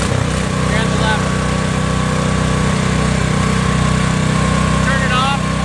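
A Toro snow blower engine runs steadily with its paddles engaged, a loud, even mechanical drone throughout with faint squeaks on top.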